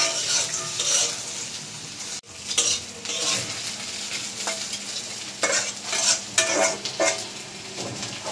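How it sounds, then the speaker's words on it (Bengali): Onion, garlic, green chili and dried fish fry in a village kitchen pan, a steady sizzle broken by repeated stirring scrapes and clinks of a utensil against the pot, close and fairly loud with no talking. "সাবধানে ভাজতে হবে, কাঁচামরিচটা ফুটতে পারে"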